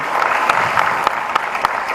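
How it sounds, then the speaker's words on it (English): Audience applause at an inauguration event: dense, steady clapping from a crowd, loud and sustained throughout with a few sharper claps standing out, no talking. "please put your hands together, give them a big applause"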